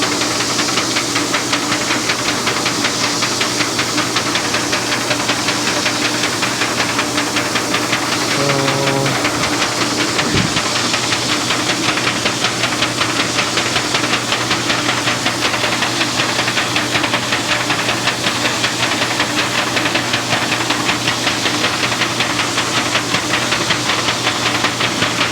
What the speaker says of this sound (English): It has to move along at a certain speed to properly cure as it goes through the oven.